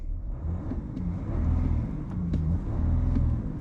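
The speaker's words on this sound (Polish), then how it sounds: "normalny dźwięk 6-cylindrowego dieselka" A 2019 Audi S6 3.0 TDI six-cylinder diesel runs at a steady idle, a low continuous rumble with a few faint clicks on top, heard alone at moderate distance.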